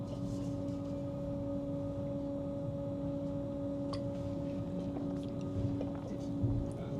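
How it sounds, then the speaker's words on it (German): Steady electric whir of a Stadler FLIRT battery train running on battery power between Lübeck and Kiel, a constant tonal hum with faint high clicks, heard from inside the carriage. "Hört ihr das Surren? Er surrt ganz schön laut."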